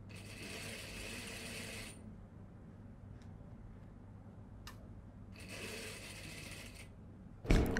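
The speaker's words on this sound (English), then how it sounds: "We are stitching the facing for the wrap over" A sewing machine runs in two steady bursts while stitching the facing of a dress wrap-over, each run lasting about two seconds, separated by a quiet pause with faint clicks, ending with a sharp knock.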